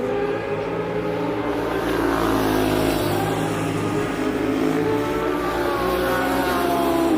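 Racing motorcycles in the Loudon Classic passing Turn 1, a steady loud blend of engine roar from several bikes sustained throughout, with no clear single pass standing out.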